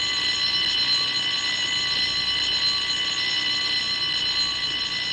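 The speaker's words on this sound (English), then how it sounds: "Releasing the handle triggers the alarm." Anti-theft cash box alarm going off, a loud continuous high-pitched electronic tone with sustained harmonics, unbroken for several seconds.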